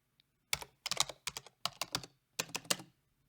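Keyboard typing effect from the Krotos Studio Genesis sound pack: crisp, close key clicks in quick irregular bursts with short pauses between groups, heard alone against near silence.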